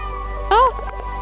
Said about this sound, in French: Le chat, on va te donner à manger.